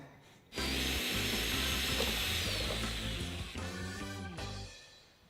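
A power drill bores a hole into a coconut, starting abruptly with a loud, steady whirring grind that shifts pitch as the bit bites into the shell, then cuts off near the end.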